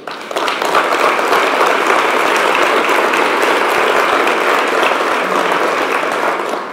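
Sustained applause from an audience in a room honoring legislators standing to be recognized at an Arkansas governor's event, steady and dense for several seconds before tapering at the end.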